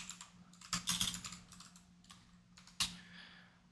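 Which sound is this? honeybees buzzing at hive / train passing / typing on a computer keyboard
typing on a computer keyboard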